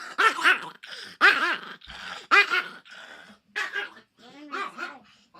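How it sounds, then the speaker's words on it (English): A dog close by barks, growls and gives short yips and whimpers in loud bursts separated by brief pauses. "Such a nice dog I have here,"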